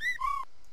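Short two-note whistle from the Chococraft mod in Minecraft, a bright rising tone followed by a longer steady one, clear and alone.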